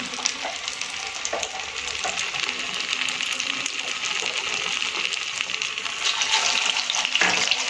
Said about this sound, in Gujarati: આ રીતે આપણે બધા જ સમોસાને મીડિયમ ગેસ ઉપર ફ્રાય કરવાના છે